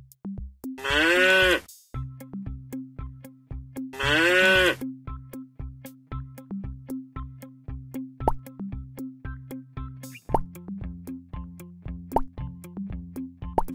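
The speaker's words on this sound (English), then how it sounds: "cow." A cow moos twice, loud and close, over a steady plopping rhythmic background beat.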